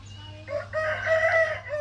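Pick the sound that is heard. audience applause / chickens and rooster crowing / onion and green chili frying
chickens and rooster crowing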